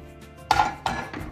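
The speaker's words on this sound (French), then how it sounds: "et je mélange à nouveau." Chocolate ganache mixed with mascarpone in a bowl, heard as a few sharp clinks and scrapes of a utensil against the bowl, three separate knocks in quick succession.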